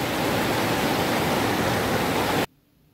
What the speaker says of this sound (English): This is the last river crossing. The water's lovely and clear though.